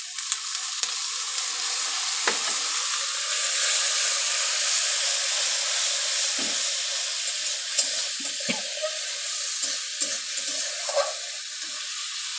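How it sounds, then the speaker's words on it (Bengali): Water from a rinsed plate goes into a hot pan of chili, turmeric and cumin powder for egg curry, raising a steady close sizzle broken by a few brief splashes and clinks. "দিয়ে ওই প্লেটটা ধুয়ে একটু জল দিয়ে দেবো।"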